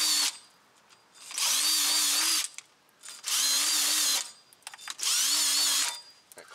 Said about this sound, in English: make sure that you're turning clockwise with your drill bit